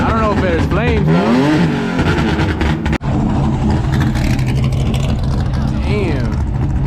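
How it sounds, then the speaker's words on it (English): A drift car's engine revs hard at a racetrack, rising and falling in loud, close bursts of acceleration, with a brief sharp cut midway, while a person's voice is heard over it. "I'm going over here revving this shit."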